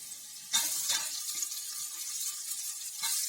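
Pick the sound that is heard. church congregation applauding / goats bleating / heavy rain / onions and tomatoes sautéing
onions and tomatoes sautéing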